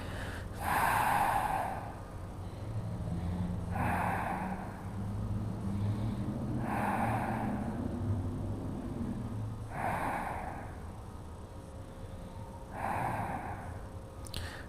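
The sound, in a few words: deep breathing during yoga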